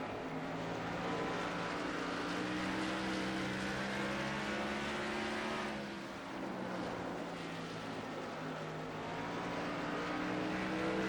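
Race car engines roaring through a night race in NASCAR Racing 2003, a steady, loud, continuous drone with shifting engine pitch and several cars close by throughout.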